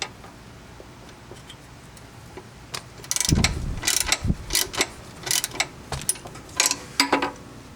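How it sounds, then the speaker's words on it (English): Ratchet wrench snugging trailer hitch bolts on a 2012 Honda Foreman ATV, quiet at first, then a run of sharp clicking strokes with clanks, fairly close. "And we'll snug up these top bolts."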